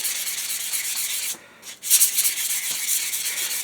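Short strokes of 600 grit sandpaper rubbed by hand over a Kentucky pistol, a steady scratchy sanding with a brief pause midway before the rubbing resumes, close and alone.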